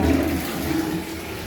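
A toilet flushes in a public restroom, a steady close rush of water running for the whole stretch without pause.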